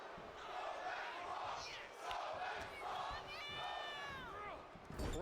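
Crowd in a wrestling video game chants and roars in rising waves as a wrestler fires them up, loud and continuous throughout.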